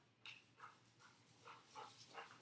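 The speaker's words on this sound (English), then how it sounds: "I even adopted my dog, Elvis, from there." A small adopted former stray dog makes quiet whimpering, sniffing and panting sounds close by, a series of short soft bursts that grow busier toward the end, with no talking.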